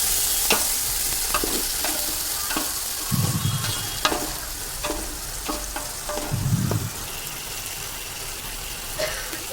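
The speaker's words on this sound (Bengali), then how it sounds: "টমেটো পেস্ট আমি দিয়ে দিলাম, দিয়ে এবার ভালো করে আবার ফ্রাই করে নেব" Tomato paste fries in a pan with a steady sizzle, while a spoon scrapes and stirs in repeated strokes, with a couple of louder bursts of bubbling; no speech.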